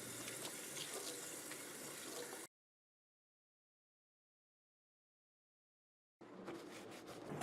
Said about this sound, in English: First you gotta wash your hands